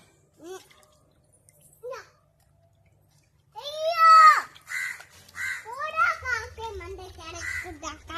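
Two short crow caws sound on their own, then a voice chatters and babbles over more calls.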